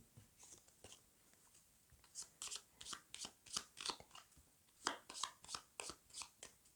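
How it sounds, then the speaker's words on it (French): Decks of cards for the Pandemic: Reign of Cthulhu board game being shuffled by hand, a run of quick crisp riffling bursts in uneven rhythm, close and quiet, with no one speaking. "On mélange individuellement chaque paquet."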